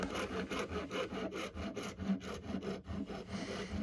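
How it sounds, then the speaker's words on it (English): Files and rasps shape a wooden handle for a crosscut back saw clamped in a vise, making quiet, steady back-and-forth rasping strokes in an even rhythm, with no voices. "I'm going to take some files and rasps and shape the handle to make it comfortable for my grip"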